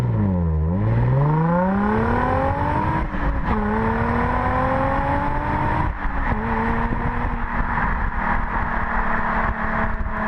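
Nissan 350Z with a naturally aspirated V6, its exhaust note dropping, then climbing in a long steady rev with strong harmonic tone, loud and close throughout with no talking.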